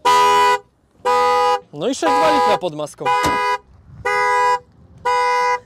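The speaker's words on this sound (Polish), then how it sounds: "Auto nam zaczyna trąbić. Niestety włączyłem alarm." A car alarm blares in loud, steady horn blasts repeating about once a second, with someone speaking briefly in Polish between the bursts, at a damaged-car auction lot on Long Island, New York.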